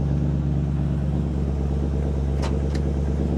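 A classic car's engine idles steadily with a low, even rumble up close, with a couple of brief higher-pitched chirps near the end.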